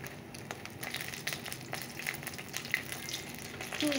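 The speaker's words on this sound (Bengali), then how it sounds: "এখন এটা ওকে ভেজে তারপরে আর বাদ বাকি বড়াগুলো ভেজে নিই।" Potato chips and vadas frying in hot oil give a soft, steady sizzle dotted with light crackles and pops, with a brief stirring clatter near the end.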